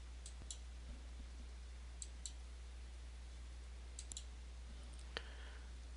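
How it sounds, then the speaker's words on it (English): Faint, sharp mouse clicks tap a few times at irregular intervals over a steady low hum while a link is clicked on a computer, isolated and quiet with no voices. "Notice that if I click on the link, a new window will open"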